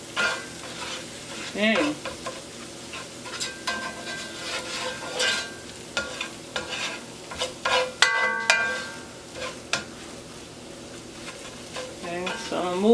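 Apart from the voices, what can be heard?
eggs being scrambled in a frying pan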